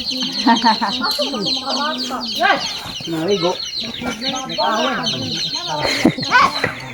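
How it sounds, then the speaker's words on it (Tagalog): Chickens cluck and chatter close by in a busy, overlapping flock, with a person speaking briefly among them. "nakita na ako nga mga isog man kay ilang manok diri"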